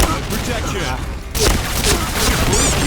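Shotgun blasts ring out in a Thai battle-pass shooter game, several booming reports and crashes over dense game noise, with a player talking throughout.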